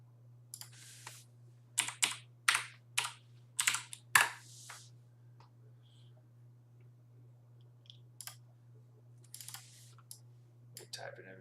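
Computer keyboard keys typed in quick bursts of clicks, with a steady electrical hum beneath and a few sparse taps toward the end.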